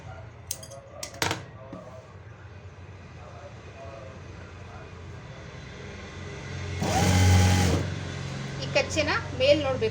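Sewing machine stitching along a marked line on a plain blouse, a steady mechanical burst of a few seconds rising midway, with someone speaking instruction before and after it.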